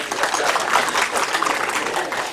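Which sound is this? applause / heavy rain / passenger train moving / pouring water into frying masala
applause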